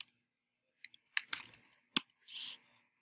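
A short, quiet burst of typing on a computer keyboard: a handful of crisp key clicks in quick succession, then a softer sustained press, with no talking.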